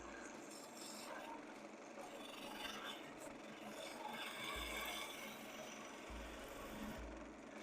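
Woodturning gouge cutting timber on a spinning lathe, the edge lifting off shavings in a continuous close scraping rasp that swells and eases over several seconds, with a low hum from the machine underneath.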